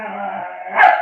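A Texas Blue Lacy ranch dog, a Greyhound, English Shepherd and wolf mix, gives a loud close howl that rises into a single sharp bark.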